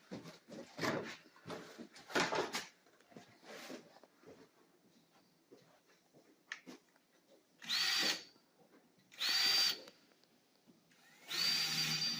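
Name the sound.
drilling hole with drill bit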